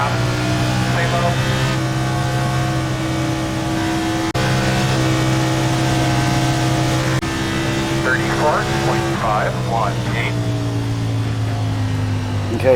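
A NASCAR Cup car in the iRacing simulator drones at high revs at WWT Gateway, its engine note steady and loud with slight pitch shifts as it winds up, while another engine briefly whines past near the end.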